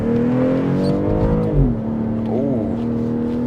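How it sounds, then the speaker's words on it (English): A BMW with a V6 engine accelerates on a rainy test drive, the engine note rising steadily and dipping with a gear change, heard from inside the cabin over a continuous road hum. "So let's go ahead and test drive this BMW."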